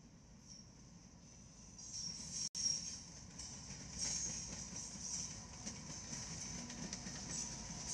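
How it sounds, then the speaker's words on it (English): A Union Pacific intermodal freight train headed by three locomotives rolls past, giving a steady rumbling roar of railcars that lasts throughout, with rhythmic wheel clatter and a high metallic hiss above it. "we catch a monster Union Pacific intermodal train led by three UP motors bound for Kansas City"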